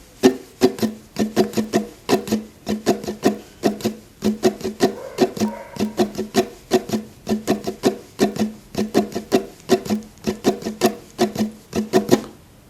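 Steady, fast ukulele strumming in a repeating pattern, crisp percussive strokes at an even tempo, played alone and close.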